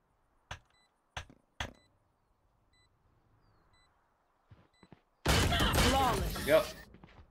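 Gunfire in the video game Valorant: three sharp shots followed by a couple of faint pops, then a loud burst of rapid fire near the end.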